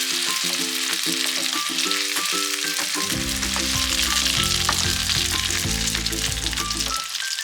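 Sage and butter sizzle steadily in a pan while being stirred, a close, continuous frying hiss with clinking utensil taps, then a deeper humming tone joins partway through.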